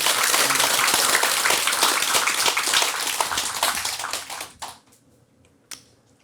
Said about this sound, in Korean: 세 분의 교수님들한테 박수 좀